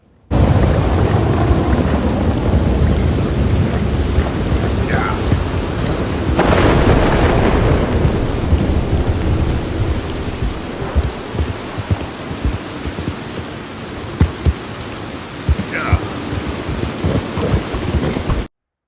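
Rain and thunder in a free-roaming video game: a constant heavy downpour hiss, with deep rolling thunder and a few sharper crackles and rumbles across nearly twenty seconds. There are no voices.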